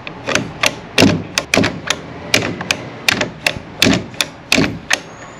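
AEG 18V cordless framing nailer firing nails into roof trusses, a rapid irregular series of sharp, loud close thwacks and thuds, a dozen or so shots with short gaps between them, no talking.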